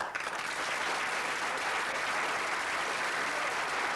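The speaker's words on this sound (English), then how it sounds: "I'd like you to give a round of applause for all our guests tonight" Studio audience applauding the guests at the close of a football TV programme, a continuous, even roar of many clapping hands at steady volume, no voices heard over it.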